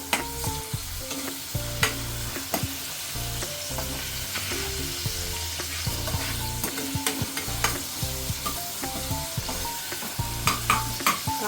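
Chopped onions with garlic paste sizzling in oil in a pan for pav bhaji, stirred continuously, with steady frying crackle and repeated scraping of the spoon, up close with no talk.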